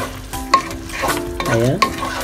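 Blanched vegetables are stirred into pinakbet in a pan, giving a close, loud sizzle with a few scraping stir strokes and a short tonal squeak of the utensil against the pan.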